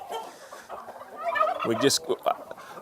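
Chickens, including a Golden Comet, cluck and squawk close by on a ranch, a busy overlapping mix of fowl calls with short sharp notes.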